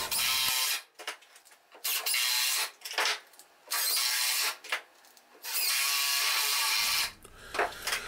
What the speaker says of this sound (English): I'll continue to put those screws on the front side